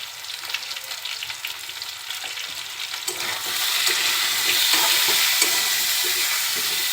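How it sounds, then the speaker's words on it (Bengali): Raw banana pieces fry in hot oil while being stirred, a crackling sizzle that swells louder and denser halfway through, with scattered scraping and no voices. "তেলের সাথে আমি এগুলো একটু ভেজে নিব।"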